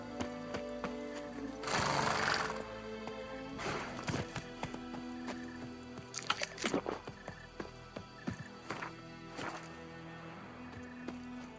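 Roach, Geralt's horse in The Witcher III, gallops in quick clip-clop hoofbeats, with a whinny and snorting over a bed of game music, the bursts of hooves coming in uneven runs.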